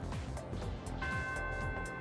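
A school bell chime in the video game Persona 3 Reload rings out, with sustained tonal ringing partway through over a busy game soundtrack, without talk.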